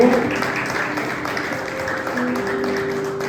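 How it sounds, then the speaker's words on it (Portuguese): Church congregation applauding the Lord during a Portuguese-language sermon, a steady wash of many hands clapping filling the room, with faint voices and a sustained tone underneath. "aplauda o Senhor mais uma vez"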